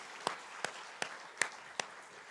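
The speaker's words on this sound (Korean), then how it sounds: "박수" Five sharp hand claps in a steady, evenly spaced beat ring out at a Korean church worship service, fairly faint and with no talking over them.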